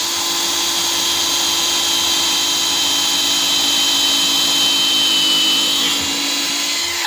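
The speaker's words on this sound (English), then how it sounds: "Try and keep your drill nice and plumb and straight, and just start him off." A power drill bores holes in wood, running continuously at high speed, a loud steady whine close by with no breaks for several seconds.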